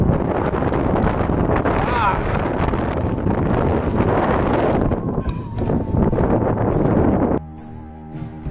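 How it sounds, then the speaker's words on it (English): Strong wind buffets the microphone in a constant roaring rush at the top of the tower of Burg Gräfenstein castle in Germany, with a person talking underneath, easing slightly near the end. "that wind is really whipping"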